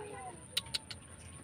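Birds kept at a Filipino household give a few quick, faint calls in an irregular series, with low background noise.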